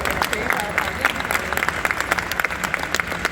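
Audience applause at a live comedy show, a dense, steady patter of clapping from a crowd that carries through the whole stretch.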